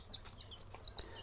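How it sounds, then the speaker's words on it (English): Tiny chicks peep with thin, high, rapid cheeps in short overlapping bursts, close by and soft, with no voices over them. "Little tiny chicks."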